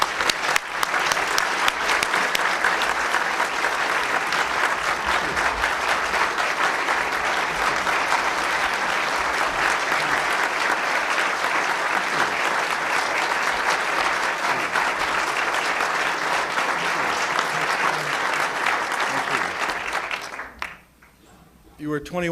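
A luncheon audience gives Cal Ripken Jr. a long, steady round of loud applause that fills the room without a break, then stops suddenly near the end.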